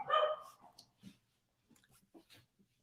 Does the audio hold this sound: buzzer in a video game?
no